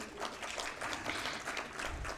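A conference audience claps at the closing session of a Civil 20 India working group conclave, a brief even round of applause heard at moderate volume with no speech over it.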